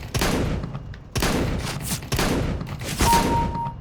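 XM1014 shotgun blasts in Counter-Strike, with four loud booming shots about a second apart, each followed by rattling reload and mechanical clatter.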